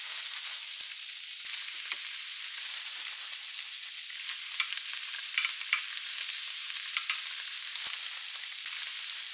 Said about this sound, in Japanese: そのままチーズを焼きます